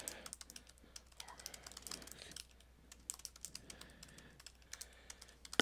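Fingers tap out rapid, uneven bursts of keystrokes on a computer keyboard, close and clicky, with brief pauses between runs of typing.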